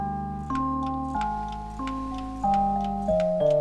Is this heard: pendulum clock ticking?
yes